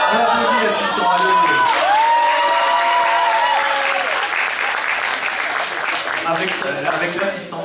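Loud, sustained applause from a cosplay contest crowd in Dijon, with cheers and whoops, as an emcee's amplified voice talks over the dense clapping throughout.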